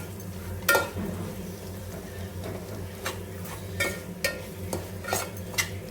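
A spoon stirs capsicum fry in a pan after spice powder is added, with soft scraping, clinks against the vessel at irregular intervals, and a faint sizzle underneath.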